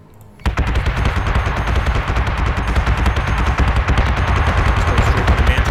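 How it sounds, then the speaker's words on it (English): Guided missiles and torpedoes are fired in a rapid, dense barrage during a space battle in Battlestar Galactica Deadlock. The loud, continuous stuttering volley kicks in suddenly and keeps going without a break, with no speech over it. "Once again, our guided missiles are getting so close. Look at those torps."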